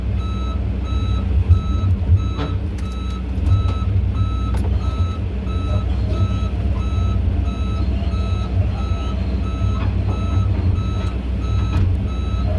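An excavator being unloaded from a lowboy trailer: a loud, steady engine drone with repeated reversing beeps throughout and occasional metallic knocks.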